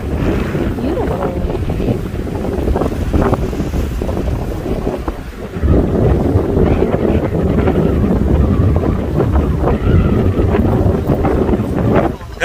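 Strong wind blows near the beach by the Scientific Center, roaring and buffeting loudly and continuously against the microphone, with a heavier gust surge partway through.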